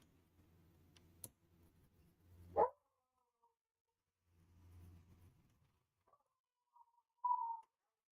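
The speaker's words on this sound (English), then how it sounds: "I'm not sure if you guys can hear my dogs going absolutely mental in the background" Several dogs barking wildly in another room of a home workshop, heard as a few short, faint barks spread apart over quiet background noise.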